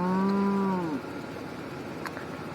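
Cattle on a ranch, cows gathered near a mineral lick tub, let out one loud, drawn-out moo that falls in pitch and fades after about a second, followed by quieter outdoor ambience.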